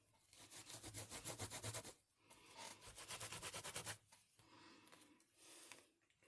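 A wet microfiber cloth rubs back and forth over paint on an art journal page, producing quiet, close, rhythmic swishing strokes in bursts separated by short pauses, with no voices.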